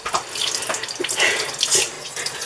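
A whole chicken rinsed under a running kitchen tap, with water splashing and gurgling unevenly close by as it hits the bird and sink, no talking.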